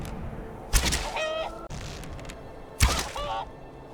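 Chickens cluck in Skyrim, two short bursts of clucking about two seconds apart, each opening with a sharp thud, over a steady low game background.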